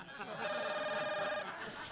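A telephone rings faintly indoors in a Turkish television drama scene, one steady electronic ring lasting about a second and a half over a quiet background.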